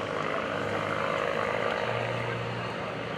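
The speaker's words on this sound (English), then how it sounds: "The two Stearman biplanes, known as the Model 75, designed in the 1930s by Lloyd Stearman" Two 1930s Stearman Model 75 biplanes fly over an airshow crowd, their radial engines giving a steady, droning propeller roar that holds at a constant level throughout.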